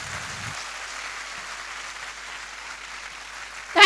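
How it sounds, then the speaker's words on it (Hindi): An audience at a large indoor motivational seminar applauds in a continuous wash of clapping, heard at a steady moderate level before a loud close sound cuts in at the end. "सबसे जोरदार तालियां।"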